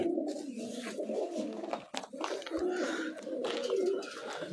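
Pigeons on a rooftop in Kalabagh give soft cooing calls over steady outdoor noise, with a brief dip midway and a low thump.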